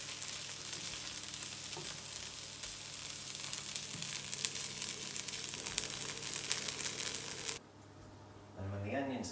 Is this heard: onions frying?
yes